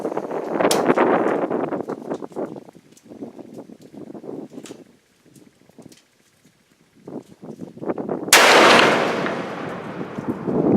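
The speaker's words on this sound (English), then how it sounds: "I'm going to try a shot from the bench." A .450 Rigby rifle fires from the bench with one sharp, very loud blast followed by a rumbling echo, after a stretch of shuffling and handling noises.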